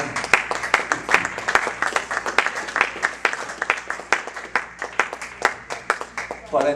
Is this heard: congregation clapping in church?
yes